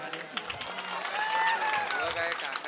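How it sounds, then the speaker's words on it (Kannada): An audience at a stage music show in Bijapur claps, producing a sustained, dense patter of applause under a prominent amplified voice talking over it. "ಬರಲಿ ಒಂದ್ಸರಿ ಜೋರ ಚಪ್ಪಾಳೆ"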